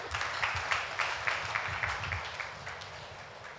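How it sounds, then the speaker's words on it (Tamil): Church congregation clapping hands during a Sunday service, a steady mass of applause filling the room at moderate level for the whole stretch, no voice over it. "கைத்தட்டுங்க பார்க்கலாம்."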